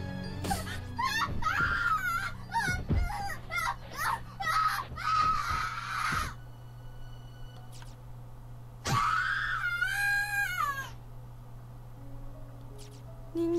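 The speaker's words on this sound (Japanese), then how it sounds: "凄まじい音波のような叫び声。" A terrible sonic scream from the Corpse Party video game, a shrill wavering cry with long rising and falling tones, heard in bursts alongside other voices and game sounds.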